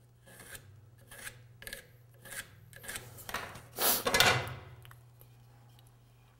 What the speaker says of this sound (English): And it's getting pretty straight there where I'm planing.